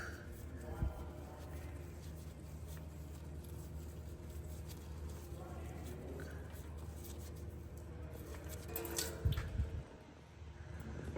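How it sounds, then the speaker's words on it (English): DSG transmission fluid from an Audi or VW DQ250, DQ500 or DQ381 gearbox drains from the pan in a faint, continuous trickle with scattered drips, heard close in a quiet workshop. "So I'm just going to let this drain out."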